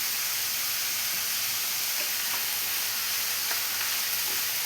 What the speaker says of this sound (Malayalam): ഈ സവാളയെല്ലാം നന്നായി തന്നെ ഒന്ന് ഗോൾഡൻ ബ്രൗൺ കളർ ആവുന്നവരെ നമുക്കിതൊന്ന് വഴറ്റിയെടുക്കണം